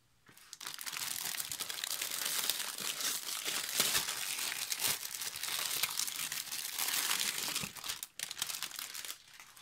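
Crystal-clear cellophane wrapping crinkles and rustles continuously as scrapbooking supplies, including an A4 stencil, are unpacked from a shipping box, loud and close with brief pauses.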